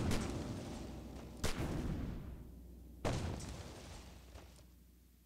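Artillery firing chemical shells in the strategy game Aggression: Reign Over Europe, with a rumbling bombardment running throughout. Two sharp, loud blasts stand out, each followed by a long fading roll.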